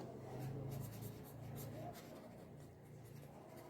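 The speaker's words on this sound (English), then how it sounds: "Now for the hair also, you may pick up your sketch pen" Sketch pen scratching and rubbing across paper while a drawing is coloured in, a soft, close, steady scribbling with short strokes and no speech.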